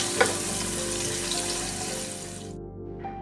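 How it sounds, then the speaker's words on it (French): Chopped onions fry in oil in a saucepan for egusi soup, a loud, dense steady sizzle that runs on and then cuts off abruptly near the end, followed by a brief quieter hiss. "Dans une casserole, nous rajoutons un peu d'huile dans laquelle nous allons rajouter les oignons."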